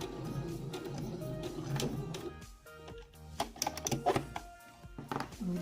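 A sewing machine backstitching at the end of a zipper seam, short bursts of rapid mechanical stitching broken by clicks and pauses, close and fairly quiet, with a faster run of stitches toward the end.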